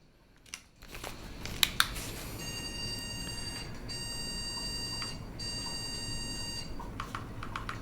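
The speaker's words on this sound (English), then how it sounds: "Reboot the computer and 3 beeps happen." A homelab computer being rebooted sounds three long, loud electronic POST beeps in a row, preceded by a few clicks and handling noises, with no voices.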